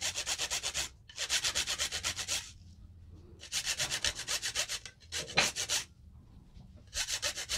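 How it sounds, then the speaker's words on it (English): A whole nutmeg is grated for hot cross bun dough in quick rhythmic rasping strokes, close and fairly loud, in several bursts separated by short pauses. "I'm going to grate in some nutmeg, just a pinch"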